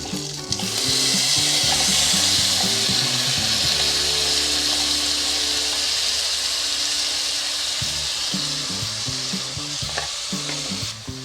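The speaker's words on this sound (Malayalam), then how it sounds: "ഇതൊന്ന് നമുക്ക് ഈ എണ്ണയിലിട്ടിട്ട് തന്നെ ഒന്നുകൂടെ വഴറ്റിയെടുക്കുക" A Kerala-style ground spice paste with curry leaves sautés in hot oil, producing a loud, continuous hiss and sizzle close up, with rhythmic scraping and stirring strokes throughout and no talking.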